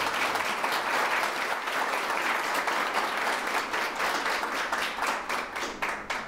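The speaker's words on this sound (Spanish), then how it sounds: "yo les pediría a ustedes, por favor, un aplauso para el señor candidato" An audience gives sustained applause for candidate Humberto de la Calle at Universidad Sergio Arboleda: dense, steady clapping from a large crowd that holds loud throughout and thins slightly toward the end.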